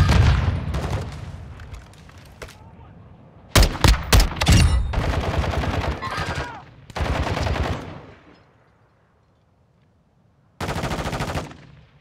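Automatic gunfire from Call of Duty MWII DMZ: loud, sharp bursts and rattling volleys of machine-gun fire, separated by short pauses and a quieter stretch before a final burst.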